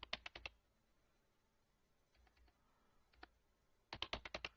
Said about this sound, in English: type our server location